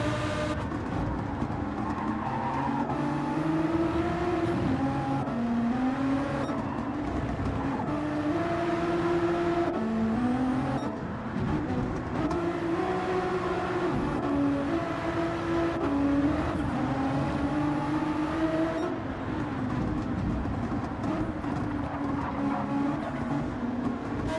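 Nissan GT-R race cars lapping in Gran Turismo 7 at Circuit Gilles Villeneuve, a steady, loud engine drone with rising and falling gear pitches running the whole time, no talk over it.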